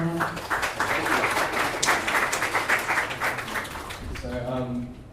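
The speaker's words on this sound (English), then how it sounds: "Please give him a massive round of applause." An audience claps for several seconds, dense and lively, before a voice begins speaking as the applause fades.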